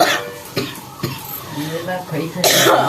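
A woman with a two-month persistent cough coughs several times in short, harsh bursts, close to the microphone, with a louder cough near the end.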